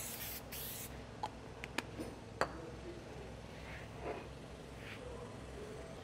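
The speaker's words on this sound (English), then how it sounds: "We start off with the cleaner, basically to get the surfaces nice and clean, ready for the developer and the penetrant." Cleaner sprayed onto a metal surface to prepare it for penetrant crack detection, a few short quiet hissing bursts with small clicks and taps between them, close and faint, no talk.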